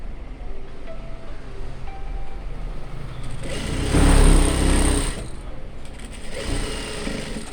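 A sewing machine stitching, a steady close mechanical whir that swells into a louder, faster burst for about a second in the middle before settling back to its running hum, with faint talk underneath.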